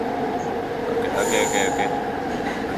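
Light rail train ride in Kuala Lumpur, Malaysia, a steady rumble of the carriage in motion with brief high squeals from the wheels, close and continuous, while a person speaks briefly over it.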